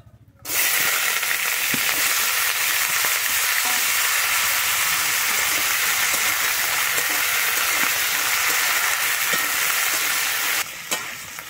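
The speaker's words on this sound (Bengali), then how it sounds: "আমার তেলটা গরম হয়ে গেছে। প্রথমে আমি আলুগুলো ভেজে নেব।" Potatoes drop into hot white oil in a wok and burst into a loud, steady sizzle that continues close and unbroken for several seconds before tapering slightly.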